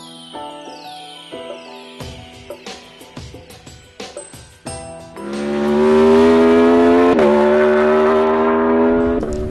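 An Aprilia RSV4 Factory APRC V4 superbike on a racetrack, first heard as sharp rising revs through quick gear changes, then a loud, sustained, high-pitched engine wail held close for several seconds.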